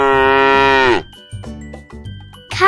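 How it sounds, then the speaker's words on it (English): A cow gives one long, loud, close moo lasting about a second, followed by quieter lowing and a fainter second call starting at the end. "Cow."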